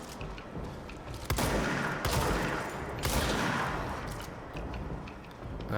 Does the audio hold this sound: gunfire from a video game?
yes